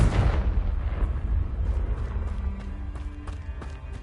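Confringo blasting spell from Hogwarts Legacy: a loud fiery burst at the start that decays into a low rumbling tail, with a few sharp crackles and pops trailing after.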